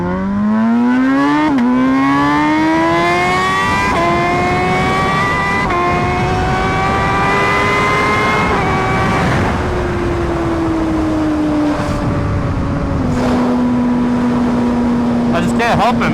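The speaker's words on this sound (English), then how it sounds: "When I see a straight road and the bike sounds like this" A Brutale motorcycle fitted with a new titanium exhaust revs hard and close, its loud engine note climbing steadily through the gears with brief dips at each shift and staying strong from start to finish.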